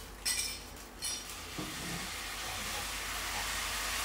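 A soft, steady sizzle of noodle sauce in a hot pan, preceded by a few light clinks of a utensil against the cookware.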